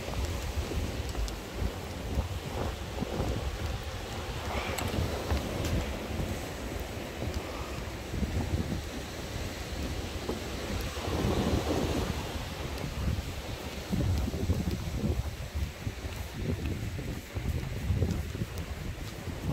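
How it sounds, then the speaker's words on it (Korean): Ocean surf keeps breaking on a beach at sunset at Haeundae, a continuous rushing wash with slow swells and gusts of wind buffeting the microphone throughout. "일몰 시간에 파도 소리가 아주 참 멋집니다"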